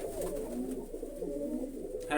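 Pigeons, including pure white ones, coo steadily in low, throaty rolling calls, several birds overlapping close by with no talking.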